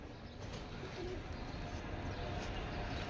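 Pigeons cooing in a bird farm's lofts, a steady low murmuring chorus of overlapping coos that fills the whole stretch at moderate, even loudness with noisy background.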